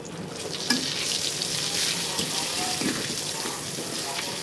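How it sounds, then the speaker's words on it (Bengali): Eggplant slices frying in mustard oil in a wok give a steady bright sizzle with occasional clatter and scraping, heard close up without talk. "বেগুন ভাজার জন্য এই যে এখানে আমি কড়াইতে সরিষার তেল দিয়ে দিলাম"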